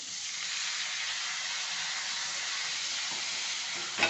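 Chopped tomatoes hit softened, sautéed onions in a pan for tomato chutney. A steady, bright frying hiss holds evenly at moderate volume with no speech.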